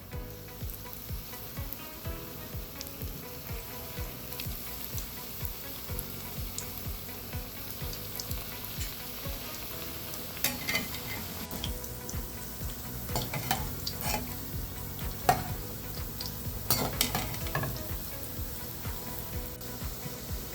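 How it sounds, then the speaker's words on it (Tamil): Bread pieces fry in hot ghee in a pan, giving a steady, quiet sizzle with occasional light scrapes and clinks as they are moved and turned. "இதிலே கொஞ்சம் நெய் போட்டுக்குவோம் இதில் நெய் காஞ்சிடுத்து இந்தமாரி ப்ரெட்டு துண்டுலாம் வந்து இதுமாரி போட்டு வறுத்து எடுத்துக்கணும்"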